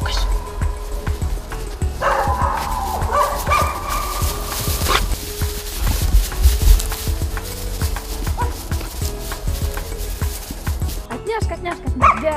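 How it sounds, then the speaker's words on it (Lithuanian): A young hunting puppy being trained to follow a wild boar's scent trail barks and yips in repeated sharp bursts, close and fairly loud, among outdoor rustling and footsteps. "Mes mėginsime pamokyti jauną šuniuką sekti šerno pėdsakais."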